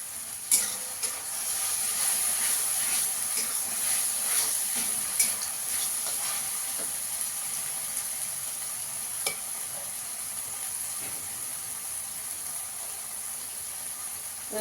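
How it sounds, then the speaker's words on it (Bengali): Onion, garlic and ginger fry in a pan with a steady, close sizzling hiss, broken by a few light utensil clicks and scrapes early on, with no voices. "ভালো করে পেঁয়াজ, রসুন, আদা এটা ভালো করে কষিয়ে নেবো যাতে কাঁচা গন্ধটা চলে যায়।"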